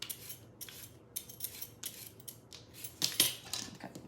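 A handheld swivel peeler scrapes thin strips off a raw carrot in a quick series of short, crisp rasping strokes, close up and fairly quiet, with no talking.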